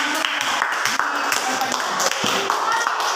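A classroom full of students claps together in a dense, steady patter of close hand claps that runs for several seconds, with some voices underneath.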